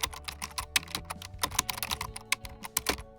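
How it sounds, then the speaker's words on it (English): Fingers type a description on a computer keyboard, giving rapid, irregular clacking keystrokes close up with no voices. "I'll type a description."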